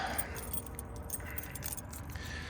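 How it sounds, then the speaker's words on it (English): Keys jangle and rattle while being wiggled in the lock of a bread truck on a cold day, a steady close metallic clinking over low background rumble with no talking. "Just gotta wiggle the keys."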